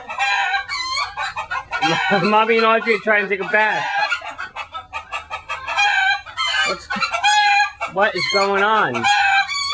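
Chickens indoors, a rooster and a hen, clucking, squawking and crowing loudly in agitated bursts close by, while people talk over the commotion.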